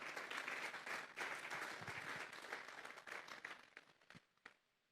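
A church congregation claps loudly and steadily, then the applause thins into a few scattered claps and dies away in the last second.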